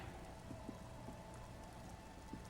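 Soft, steady rain falls in the Disco Elysium game world, a quiet, even patter with scattered drop taps and no voices.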